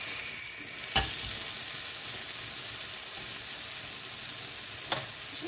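Butter melting and sizzling in a pan before mushrooms go in, a steady close frying hiss with two brief knocks of a utensil.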